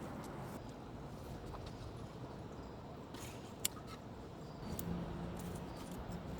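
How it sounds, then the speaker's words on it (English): Sharp snipping sounds of household scissors cutting through plant stems in a garden, sparse and fairly close, over a steady background hiss. "I don't have pruning shears, so I'm just gonna use scissors"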